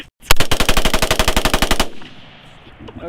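A rifle fitted with a bump stock fires a fast burst of about fifteen shots in under two seconds, each report sharp and loud, followed by a fading ring and faint room noise.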